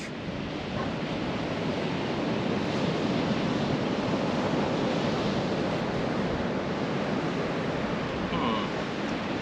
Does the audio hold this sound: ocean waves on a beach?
yes